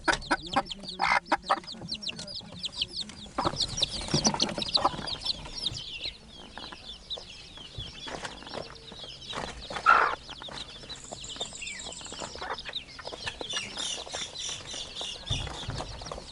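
Tiny bantam hens cluck in short, repeated bursts, close and fairly faint, with occasional chirps and some background noise.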